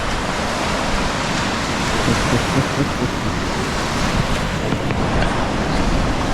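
Stormy sea waves roll onto the Devon coast in heavy rain and wind, a loud continuous roar of surf mixed with gusty wind buffeting close by, no voices.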